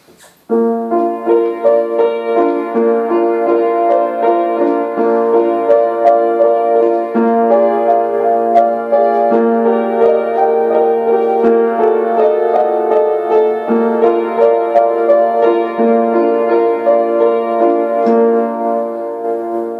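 A solo piano piece by Franz Schubert plays steadily with full chords and a flowing melody, moderately loud and continuous throughout with no voices.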